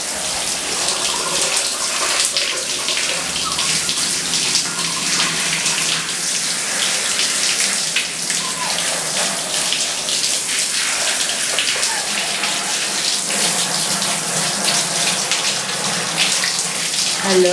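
Running water pours steadily from a tap, splashing loudly and continuously as it wets a toy poodle's coat during a home bath.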